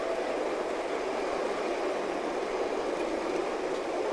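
A G scale live steam model train, a Mikado-type locomotive crossing a tall trestle, rumbles steadily past with a continuous rolling hiss and faint rhythmic clatter, close by and fairly loud, no talking.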